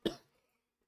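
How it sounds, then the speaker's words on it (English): A single short, sharp cough from a man who is still a little sick, close and abrupt, fading quickly into silence. "I'm gonna be coughing a bit"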